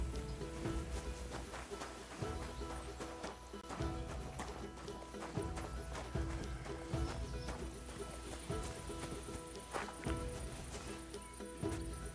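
Horse hooves clip-clop steadily in Kingdom Come Deliverance 2, a rhythmic run of close, moderately loud hoofbeats over dense game music and ambience.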